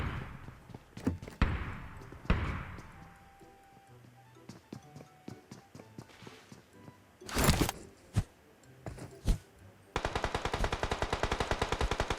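Gunfire in PUBG Mobile: scattered single shots and short bursts at the start, then a steady rapid automatic burst near the end, fairly loud and alone without talk.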